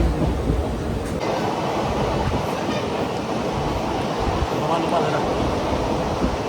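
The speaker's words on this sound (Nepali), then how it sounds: "मडगाउँको चाहिँ हामी रेलवे स्टेसनमा आइसकेका छौँ होइन" A train at Madgaon railway station in South Goa, a loud, continuous rumble of rail cars filling the whole stretch with steady clatter and station noise.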